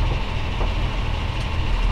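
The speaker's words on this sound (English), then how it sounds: "Vlogging on a train." Inside a moving train carriage, a loud constant low rumble of wheels and rail fills the space, with faint rhythmic clatter and no voices.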